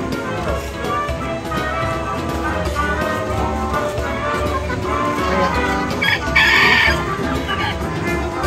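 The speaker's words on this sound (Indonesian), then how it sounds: "Ayamnya ganas." Chickens at a dairy farm attraction in Puncak cluck constantly, loud and close, and one rooster crows partway through over a busy crowd.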